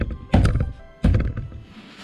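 An IKEA cabinet panel being pushed into place takes two solid, dull bangs about a second apart, close and fairly loud, with a little rattle after each hit.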